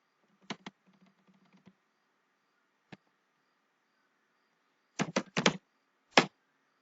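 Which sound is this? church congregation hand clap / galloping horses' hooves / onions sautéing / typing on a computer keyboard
typing on a computer keyboard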